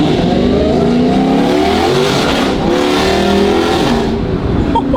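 Dodge Hellcat with a Valvetronic Designs valved sport exhaust and 3-inch piping on downshifts, loud close engine roar that rises and falls with rev changes across the whole stretch, no speech.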